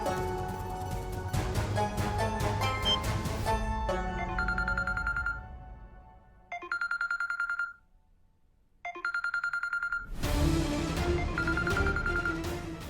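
A phone ringtone plays a repeating electronic melody in three separated bursts, with louder music before and after.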